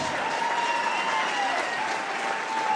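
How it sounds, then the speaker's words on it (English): A crowd applauds two professional boxers after a unanimous-decision bout, a steady dense wash of clapping filling the hall without a break, loud and sustained. "big round of applause for both of these outstanding professional fighters"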